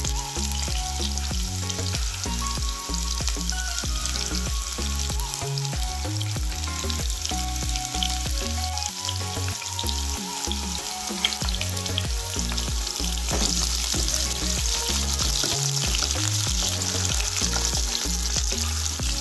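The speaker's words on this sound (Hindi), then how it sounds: "प्याज को अच्छी तरह से भून लीजिए तेल के ऊपर इस तरह से।" Chopped onions fry in oil in a pan for a rice pulao, making a loud, continuous, dense sizzle that holds steady throughout with no talking.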